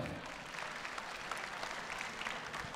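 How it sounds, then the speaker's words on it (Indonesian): Faint, even applause from a pageant audience at a Miss Indonesia regional contest, a continuous wash of many hands clapping at a distance. "Tepuk tangan untuk Bunda Maya boleh?"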